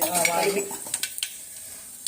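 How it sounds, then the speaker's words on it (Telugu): Mustard seeds, cumin and curry leaves sizzle and crackle in hot oil, with a few sharp pops and stirring scrapes in a short, close burst that fades toward quiet. "కరివేపాకు, కొత్తిమీర, జీలకర్ర ఆవాలు, పోపుకి వేస్తామండి."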